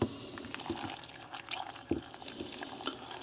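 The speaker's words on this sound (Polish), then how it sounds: "Zalewamy wodą." Water is poured into a blender over chopped parsley and other smoothie ingredients, a close, uneven splashing and trickling with small gurgles and a few clunks.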